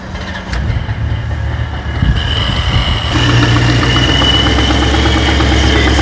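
A supercharged Corvette V8 idles high and steady nearby, a low rumbling drone with a whining blower layered on top. The sound grows slightly louder and fuller partway through, then holds constant with no voices.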